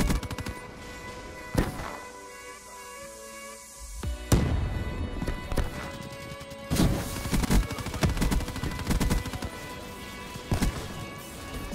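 Gunshots in a shooter video game on new maps: sharp, loud individual shots and clusters of rapid cracks. A heavy blast stands out early and another near the middle, and dense firing fills the second half.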